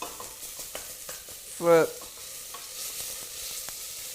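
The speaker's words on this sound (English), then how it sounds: "You do want to really sort of cook this paste" Thai green curry paste frying in a pan, a faint sizzle with soft stirring taps, and a brief spoken word partway through.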